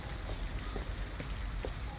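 Rain falling in the video game Detroit: Become Human, a dense, steady hiss of drops with faint scattered patters, continuous throughout.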